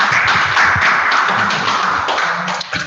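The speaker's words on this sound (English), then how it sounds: "would you give her a hand clap?" Audience at an alumni foundation launch event gives sustained applause, dense steady clapping filling the room at an even loud level before tapering at the end.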